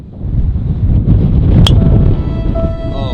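Strong wind gusting across an open golf course during a team scramble, a steady loud broadband roar that barely lets up, with a brief sharp click partway through.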